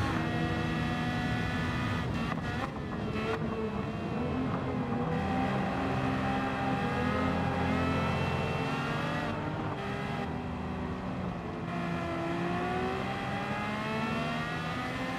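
A naturally aspirated car engine in Gran Turismo 7 revs hard and accelerates, its steady harmonic drone climbing in pitch through the gears, loud and continuous with no talking.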